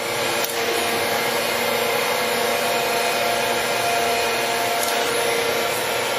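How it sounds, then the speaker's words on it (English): A Gallmeyer & Livingston Grand Rapids 660 surface grinder runs on its own, giving a steady, loud, continuous broadband whir and hiss with an even hum underneath and no pauses. "Just going to let the machine run for itself for a second here."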